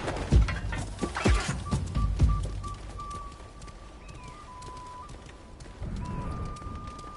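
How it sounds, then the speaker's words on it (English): Birds in the video game GreedFall, several calls and coos scattered across a busy game scene with thumps and footsteps early on, a steady tone running underneath, then a louder low rumble near the end. "Look at all those fucking birds."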